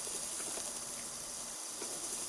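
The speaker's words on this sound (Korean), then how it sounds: "양파에 수분이 없어야 해서 센 불에 볶아줄게요." Onions sizzling hard in a cast-iron pot over high induction heat, a steady loud hiss of frying filling the whole moment with no talk.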